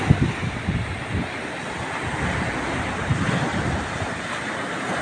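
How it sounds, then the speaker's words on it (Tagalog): Strong sea waves crash and wash onto a beach resort shore in Sariaya, Quezon, a steady loud roar of surf mixed with gusty wind buffeting the microphone. "Ang lakas ng alon mga kaibigan."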